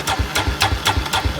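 A cold quad bike engine idles just after starting on the choke, a rough, rhythmic putter of roughly five beats per second, close and fairly loud.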